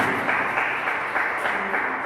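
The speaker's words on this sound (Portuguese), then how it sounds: "Então vamos os sábios aplaudir e glorificar o nome de Jesus Cristo, o nosso Senhor." A church congregation claps together in steady, even applause at close range, a continuous patter with no talking over it.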